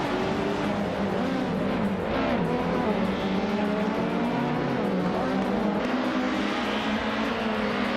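Race cars in a racing game, led by a 2021 Ford Mustang, roar steadily with a sustained engine drone and shifting pitch, loud and close throughout with no voices over it.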